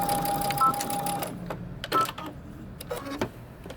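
A sewing machine runs a short straight seam at fabric corners, with a steady stitching buzz that gives way to a few clicks and handling knocks nearby.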